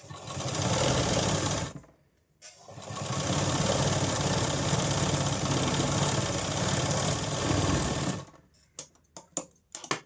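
A sewing machine stitches a katori blouse with a steady close motor hum, pauses briefly, runs again for several seconds, then stops into a few scattered clicks and handling knocks.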